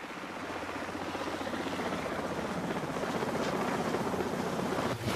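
A helicopter's rotor thumps in a fast, steady pulse, loud and close, with engine roar rising slightly and no voices.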